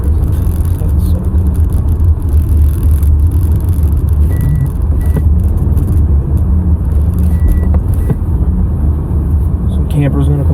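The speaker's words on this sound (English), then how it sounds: "We're in like 6 or 7 inches of snow, and I'm just plowing, dude." Car plowing through six to seven inches of deep snow, a loud continuous engine drone with whirring and crunching underneath, people talking over it throughout.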